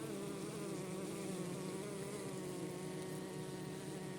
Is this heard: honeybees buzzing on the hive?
yes